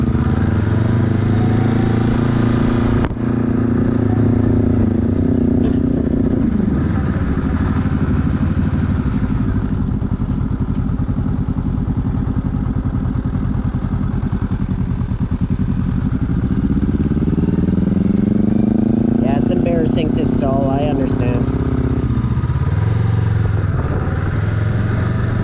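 A Honda Rebel or Kawasaki Ninja motorcycle on a practice ride rumbles loudly and steadily, its engine note rising and falling as it revs and moves, with occasional clatter near the end.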